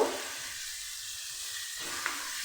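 Chicken cutlet filling cooks in a pan over a low gas flame, giving off a steady, quiet sizzle and hiss that runs throughout, with a small pop near the end.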